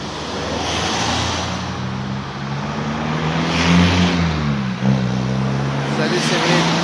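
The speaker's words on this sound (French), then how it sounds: "Il y a du bruit, il y a des voitures qui passent." Steady roadside traffic rumble as cars pass by, with broad swells of passing vehicles around the middle and near the end, fairly loud and continuous.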